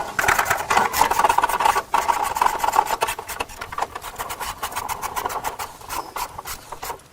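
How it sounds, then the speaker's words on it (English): Two flange mounting nuts are being tightened, making a steady rasping run of quick, close metallic clicks and scrapes that continues almost without pause, with a brief dip partway through. "Now let's get the 2 mounting nuts on"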